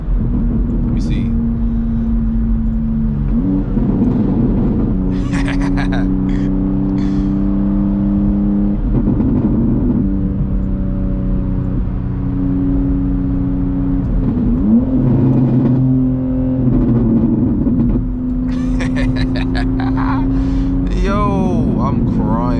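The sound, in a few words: BMW M2 engine revving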